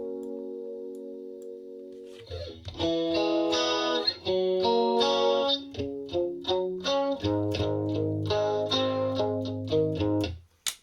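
Electric guitar playing chords and picked notes through a shimmering, wavering chorus effect, following a brief sustained tone at the start.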